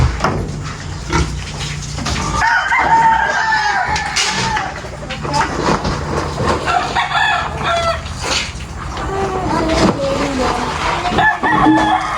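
Noisy chickens clucking and crowing loudly before feeding, a dense, constant chorus of close birds with rooster crows and shrill calls throughout.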